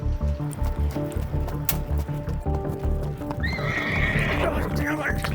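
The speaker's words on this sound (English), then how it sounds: "Stop that horse." On a ranch, a horse whinnies loudly near the end over steady clip-clop of hooves and rumbling activity, with no clear talk.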